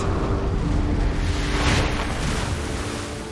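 A meteorite splashes into water in a TV episode, a broad roar of rushing water and wind that stays loud and steady throughout, then fades slightly at the end.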